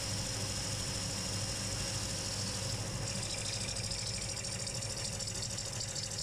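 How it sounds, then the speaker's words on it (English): An old Bosch drill spinning a coarse 36 grit sanding pad against a turned wood bowl, a continuous droning whir with gritty abrasion, steady and close with no talking. "That noise you can hear, that's actually a 36 grit pad."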